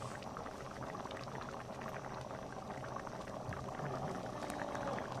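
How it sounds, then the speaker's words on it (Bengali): Ghughni, a curry of peas and potatoes, bubbles steadily in a pot over a gas flame, giving a continuous dense simmering and popping that stays at an even level throughout, close by, with no talking. "ফুটে উঠেছে দেখুন দু মিনিট ফুটিয়ে নেওয়ার পরে বন্ধ করে দেবো গ্যাস"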